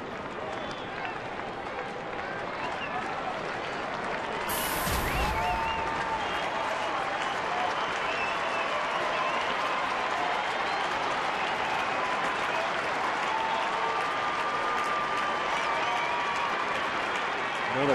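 A sellout baseball stadium crowd of about 39,000 applauds and cheers in a broad, sustained roar throughout, with a commentator's voice heard over it.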